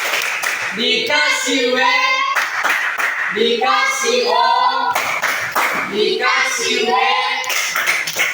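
A class of children claps a rhythmic tepuk pattern for group 3, their clapping set against loud chanted voices in three repeating phrases.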